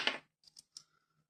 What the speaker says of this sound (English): We'll just cut the end of this braid off.